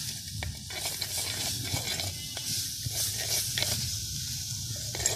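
Vermicelli stirred with turmeric powder in a clay pot, a repeated scraping and rustling stir over a low sizzle, close and fairly loud, with no talking.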